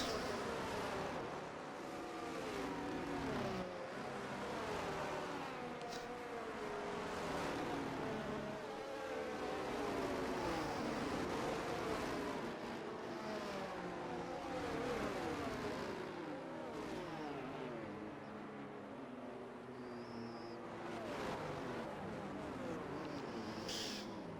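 Race cars in the RSF1 racing game idle and rev on the starting grid at the Qatar circuit, a steady dense engine drone with rising and falling pitch sweeps from several cars, loud and continuous throughout.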